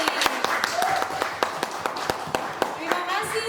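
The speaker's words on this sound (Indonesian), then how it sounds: "Kasih tepuk tangan yang meriah untuk Kak Seli." Sparse, distinct hand claps from a small audience at a Sunday school Christmas celebration, sounding close and uneven beneath ongoing speech.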